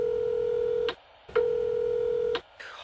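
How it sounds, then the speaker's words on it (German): Answering machine beep tones before a recorded message: two long steady beeps with short gaps, clear and close, followed by a brief chirp at the end. "Sie hören eine Nachricht auf dem Anrufbeantworter."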